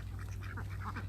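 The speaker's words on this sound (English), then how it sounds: "So there are more than 40 ducks here, and they are laying up a storm" Ducks on a farm quack in a quick, busy series of nasal calls over a steady low hum. The flock of more than forty layers sounds fairly close and moderately loud.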